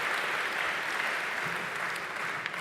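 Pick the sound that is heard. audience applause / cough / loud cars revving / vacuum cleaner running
audience applause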